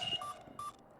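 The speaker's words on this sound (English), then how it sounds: "Oh, I have received a message on my phone." Three short identical electronic beeps from a phone message notification in a video game repeat at an even pace, clean and moderately loud over a faint hum.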